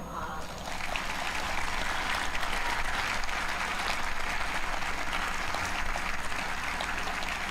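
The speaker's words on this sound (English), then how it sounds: "offer up your own round of applause for everyone who has made your graduation possible" A graduating class of 2021 applauds at a college commencement, a dense, steady roar of clapping from a large crowd that swells after a brief quieter start and holds evenly.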